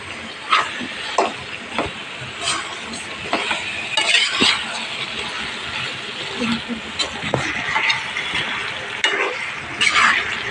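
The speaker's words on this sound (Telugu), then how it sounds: "మంచిగా మిక్స్ చేసుకోవాలి" A spoon scrapes and stirs tomato curry with chili powder in a pan, with clinks against the metal and a light sizzle, close and fairly loud. Speech can be heard faintly in places.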